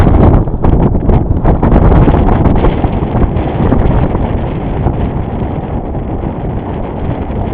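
A sailboat's head sail flogs in strong gusting wind, a continuous loud, close roar of wind buffeting the microphone with rapid fluttering flaps and rustle throughout.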